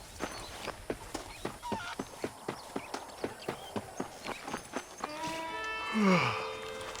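Horse hooves clip-clop at an even walking pace in the Western video game Red Dead Redemption, with clear, close repeated strikes, then a brief whinny-like sound near the end.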